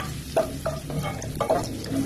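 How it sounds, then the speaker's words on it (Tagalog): Garlic and ginger sautéing in a pan, a continuous close sizzle broken by several distinct scraping stirs at an uneven rhythm, with no voices. "Magigisa tayo ng bawang."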